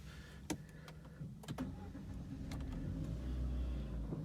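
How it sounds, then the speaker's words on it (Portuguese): A Peugeot 208 is started up: a few faint clicks come first, then a low engine hum swells and settles into a steady idle, quiet and close inside the car. "Vou ligar o carro para vocês verem."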